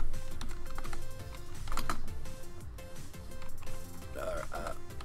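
Computer keyboard typing a command on a Windows machine, soft irregular key clicks close by amid low background noise and faint voice.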